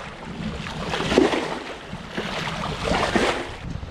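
A sailboat running under a full headsail at nearly 6 knots with the diesel engine off: steady wind and water rushing past the hull, rising in two soft swells, with no talking.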